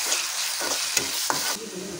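Onion, garlic, ground spices and ginger sautéing in hot oil, a steady broad sizzle broken by a few scraping stirs and spoon knocks, close and moderately loud, easing to a softer fry near the end.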